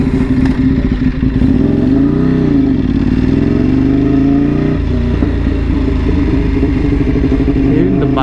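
A motorcycle engine drones loud and close while riding, a steady mid-pitched hum with shifting revs and some rattle, continuous throughout.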